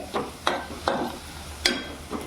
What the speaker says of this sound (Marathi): कांदा आपला लाल लाल होत चाललाय गॅस फास्ट आहे